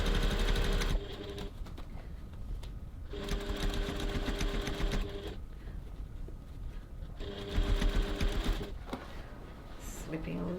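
A sewing machine stitches the gusset seam of a crossbody bag at a 2.4 stitch length, in loud close bursts of rapid whirring separated by short pauses.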